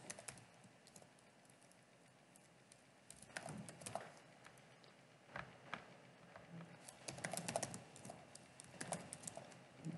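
Quiet tapping of fingers on a computer keyboard typing a password, irregular clusters of light clicks with brief pauses, close and faint in a quiet room.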